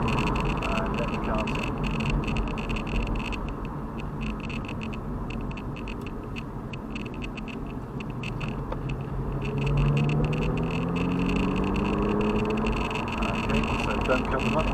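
An Aston Martin DB9 engine drones steadily and climbs in pitch as it accelerates and shifts up on a race track, with a voice talking over the engine noise.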